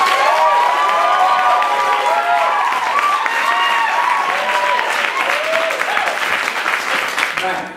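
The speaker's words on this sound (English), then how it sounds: "give a huge round of applause and welcome Mr." A crowd at a Bettakultcha evening presentation event in York applauds and cheers to welcome a speaker, loud continuous clapping with whoops and high voiced shouts rising over it, fading at the close.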